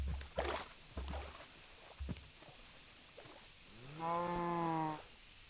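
A cow moos once in a farming video game, a drawn-out lowing call near the end, preceded by a few soft thuds and footstep-like knocks.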